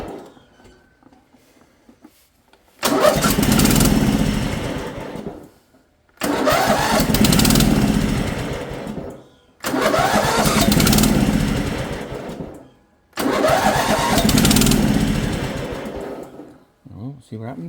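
Mountfield 1740h lawn tractor engine, running short of fuel, cranking into four loud bursts of rough, uneven running, each cutting out after a few seconds with pauses between.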